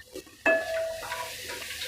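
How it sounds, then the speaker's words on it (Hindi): Whole cumin seeds, two teaspoons, drop into half a cup of hot oil in a pan on the stove, bursting into a sudden close sizzle that settles into steady frying. "ऑयल के गर्म होते ही इसमें मैं डाल दूंगी 2 टीस्पून साबुत ज़ीरा"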